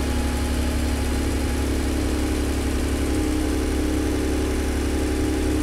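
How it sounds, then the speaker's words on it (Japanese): A used Honda NSX with a 3.0 engine idles steadily just after being started, a smooth continuous mechanical hum with a low rumble and no variation in pitch, heard close and alone. "エンジンかけてみたいと思います"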